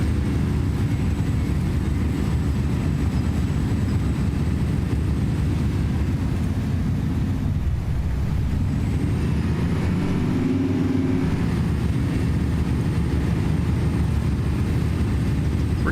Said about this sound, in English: Pretty capable truck, all things considered.